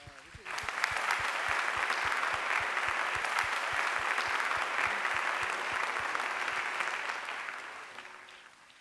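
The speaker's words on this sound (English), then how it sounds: "Let us give this SIA man and a person who has contributed to the community a really round of applause." Sustained audience applause at a centenary awards ceremony of a Singapore Tamil community association, a dense wash of many hands clapping that starts abruptly and holds steady for about eight seconds before fading slightly.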